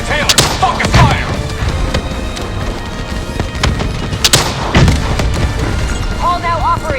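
Heavy gunfire and booming explosions in a Call of Duty Black Ops 3 fight against the Manticore boss, loud blasts near the start and middle over continuous shooting, with game voices calling out during the battle.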